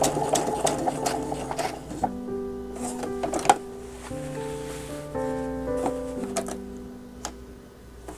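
A sewing machine runs in short stitching bursts with a rhythmic ticking mechanism and pauses between runs as fabric is guided along the presser foot edge, close and moderately loud, with a musical tone playing underneath.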